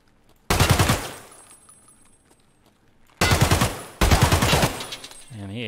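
Automatic gunfire from a raider in Escape From Tarkov rings out in three sharp, loud bursts separated by short pauses, each a rapid string of shots with echo tailing off between them.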